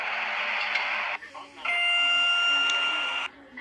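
Electronic arrival chime of a Schindler RT hydraulic elevator at a train station, two sustained buzzing electronic tones separated by a short gap, loud and close.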